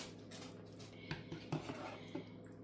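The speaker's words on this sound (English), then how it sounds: "I am taking some of the meat and vegetable mixture out of the big pan, putting it into the smaller one" A home cook moves a meat and vegetable mixture from a big pan into a smaller pan, with a few soft clinks and scrapes of a utensil against metal cookware over a low steady hum.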